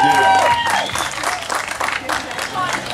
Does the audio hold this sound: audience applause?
yes